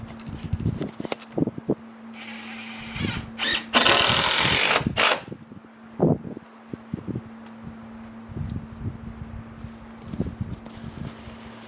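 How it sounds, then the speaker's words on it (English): Power drill driving long screws through the joints of a timber A-frame cabin outdoors: several short, close whirring bursts plus one louder sustained high grind, over a constant low hum and scattered knocks. "putting the screws through all the joints"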